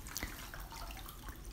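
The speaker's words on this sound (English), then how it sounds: "now I'm just rinsing the candle with some cold water so that it will harden" Cold tap water runs into a sink over a homemade candle being rinsed, a steady faint splash with a few brief drips, close by and with no talk.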